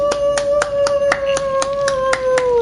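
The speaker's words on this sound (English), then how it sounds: "GG's, GG's, round of applause" One person claps roughly ten times at a steady pace during a Dead by Daylight gaming session. The claps are close and crisp, and a sustained tone hums continuously underneath them.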